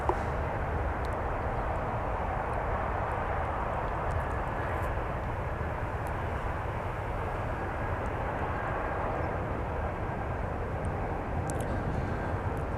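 Steady, broad roar of jet aircraft at Minneapolis–St. Paul airport, a constant engine rumble and wash holding level throughout without a break, heard from a moderate distance.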